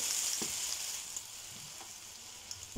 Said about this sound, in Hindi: मैं अपने पकोड़े फ्राई करती हूँ।